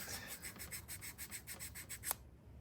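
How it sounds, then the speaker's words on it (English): Sandpaper scuffs the mahogany surface of a 1979 Takamine F-349 acoustic guitar in about a dozen quick, even back-and-forth strokes, soft and close, ending with a small tap. "So we've got a little bit of sandpaper. Just gonna, yeah, that's getting scuffed there."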